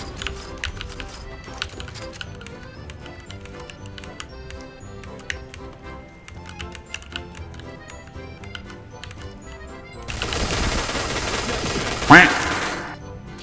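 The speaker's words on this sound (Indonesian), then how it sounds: "Dia bisa nembak gue tapi gue nggak bisa nembak dia." Gunfire from the video game Point Blank crackles in rapid, dense bursts over game music and effects, swelling into a loud sustained volley near the end.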